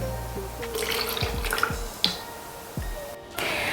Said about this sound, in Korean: 고운 체에다 한번 걸러서 병에다 담아주도록 하겠습니다